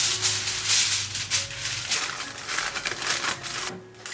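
Aluminium foil is crinkled and pressed around the rim of a pan of fish with sour pickled cabbage, giving loud, close, continuous crackling and rustling that eases off near the end.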